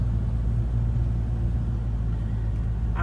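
Cars rolling past on a road near the Zacapa bridge in Guatemala, a steady loud engine and tire rumble that continues throughout with no voices, and a faint higher rattle right at the end.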